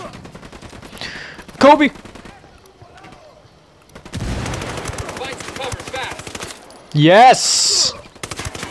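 Assault rifle bursts in the shooter Ghost Recon Wildlands: loud, rapid automatic fire in two sharp volleys separated by quieter game noise, while someone shouts excitedly over the action.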